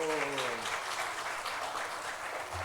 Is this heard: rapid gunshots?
no